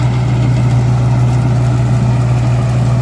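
A Mahindra Novo 655 DI tractor engine runs with a loud, steady low diesel drone and constant hum, close by and with no talk.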